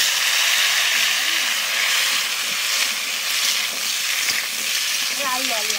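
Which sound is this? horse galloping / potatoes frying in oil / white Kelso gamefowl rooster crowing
potatoes frying in oil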